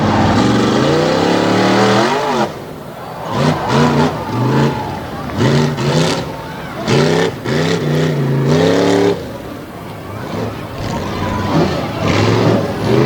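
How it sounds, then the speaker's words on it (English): An 800-horsepower race truck engine roars and revs repeatedly on a track's front stretch, rising and falling in pitch as it accelerates nearby. "Got the roar of 800 horsepower coming back down the front stretch"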